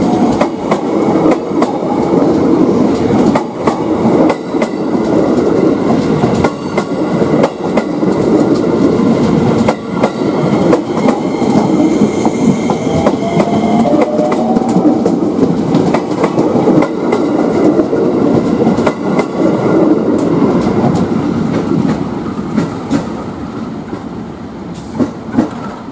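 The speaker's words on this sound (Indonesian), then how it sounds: "sudah datang lokomotif CC 206" A CC 206 diesel locomotive pulling in at an Indonesian station, its loud, continuous rumble joined by rhythmic wheel clatter and a brief squeal, sustained throughout with no talk over it.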